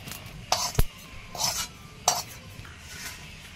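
Metal spatula scraping roasted cumin, coriander and jaluk pepper out of a wok over a village hearth, a few separate scrapes and clinks close by, one sharp knock among them.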